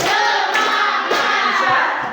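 A class of pupils claps together during a clapping game, a dense burst of many hands close by and loud, continuing steadily with a slight swell and shouted voices mixed in.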